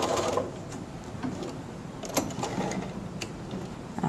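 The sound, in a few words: sewing machine back stitching a bookmark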